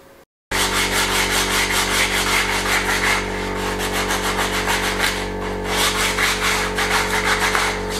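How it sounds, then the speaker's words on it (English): A power sander works over a solid pine board, a loud, close, steady whirring rasp with rhythmic scrubbing strokes, starting abruptly after a brief quiet moment and continuing without a break. "I just want to sand this one down a bit, because it's got a bit of lines off the saw off it"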